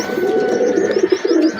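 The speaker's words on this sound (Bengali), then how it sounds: "এই হলো সে 3 পিস কবুতরের বাচ্চা" Kamagar pigeon chicks coo close by in a short run of soft, repeated throaty notes, with faint chirps in the background and no talking.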